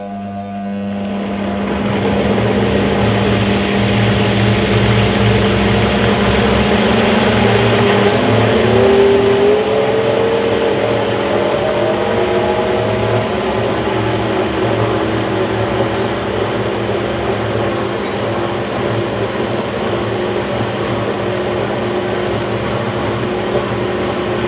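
Blender running with plant-based yogurt ingredients including agar-agar, a loud sustained motor whir starting after a brief quiet moment and holding steady with slight shifts in pitch as the mixture churns, no speech.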